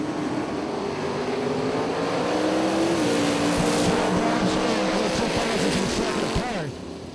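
Drag racing cars, among them a 1963 Chevy II from Tennessee, roar down the strip at a Super Pro event, a loud sustained engine drone with shifting pitch that fades slightly at the end, under an announcer's commentary.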